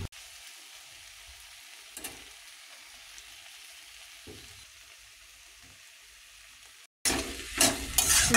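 Taro flowers drop into hot oil tempered with dried chili and mustard seeds, a soft steady frying hiss with a couple of brief stirring clatters, then a sudden louder burst of sizzling near the end.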